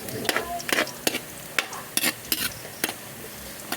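Sliced ginger stirred and fried in a pan for the Filipino dish binisaya paklay: a spatula scrapes and clacks against the pan in irregular strokes over a soft, steady sizzle, close up.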